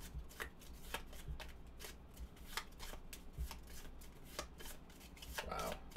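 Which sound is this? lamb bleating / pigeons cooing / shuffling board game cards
shuffling board game cards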